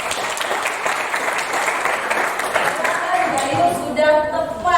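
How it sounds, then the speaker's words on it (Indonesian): Classroom applause for a student, dense clapping from many hands that holds steady for several seconds, with a voice breaking through near the end. "tepuk tangan untuk Bayu."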